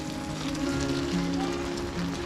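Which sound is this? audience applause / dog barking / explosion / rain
rain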